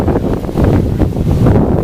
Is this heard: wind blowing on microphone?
yes